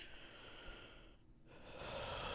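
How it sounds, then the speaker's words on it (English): A soft, close breath drawn in through the nose, a brief pause, then a longer airy exhale, with no talking. "if I take a deep breath, let me try this and see if I don't cough"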